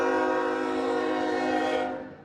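Train horn sounding in East Palestine, Ohio, the derailment town, a sustained loud multi-tone blare lasting about two seconds before fading out, with no voices.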